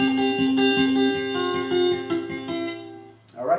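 Electric guitar playing the repeating intro riff of a song, clear rhythmic picked notes cycling for about three seconds, then a brief scraping slide at the end.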